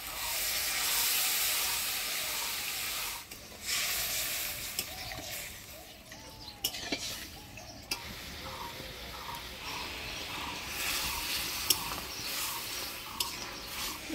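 Water poured onto a fried spice paste in a hot pan brings a soft hiss and sizzle that shifts and flares a few times, fairly quiet with occasional stirring clinks.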